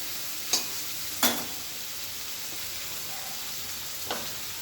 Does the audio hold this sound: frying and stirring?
yes